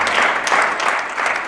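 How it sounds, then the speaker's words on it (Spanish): A church congregation bursts into loud applause during a Spanish-language sermon, a brief, busy patter of many hands with a few sharper peaks, heard without any voices over it. "Fuerte el aplauso al Señor Jesucristo"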